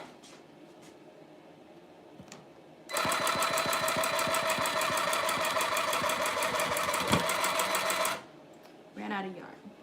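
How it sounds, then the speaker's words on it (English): A tufting gun punches yarn into a rug with a loud, rapid mechanical punching for about five seconds, like a heavy sewing machine, starting and stopping abruptly amid quieter handling noises. "Sounds like a loud sewing machine."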